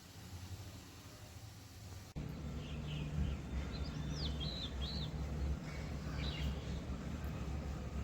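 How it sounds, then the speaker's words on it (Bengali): An Asian koel calls in the morning outdoors, its repeated rising whistled notes coming from a moderate distance over a low rumble of background noise, with no talking. "কোকিলের আওয়াজ শুনতে পাচ্ছ কিনা জানি না"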